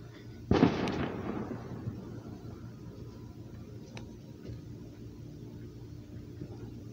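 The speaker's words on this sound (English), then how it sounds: "I saw fireworks over there." A single firework bursts with a sharp, loud crack, then its rumble trails off into a quiet outdoor background with a few faint pops later.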